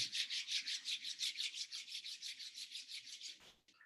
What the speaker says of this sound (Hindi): फिर से दोनों हाथ रब कर लें।